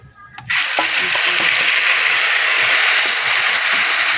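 Mustard paste with salt and turmeric hitting hot oil, bursting into a loud, steady sizzle and hiss that continues without a break after a brief quiet moment.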